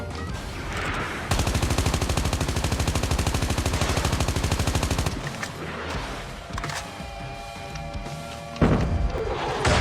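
Rapid automatic gunfire in the mobile shooter Call of Duty Mobile: a loud, evenly paced stream of shots for about four seconds, then scattered quieter impacts and a final heavy thump.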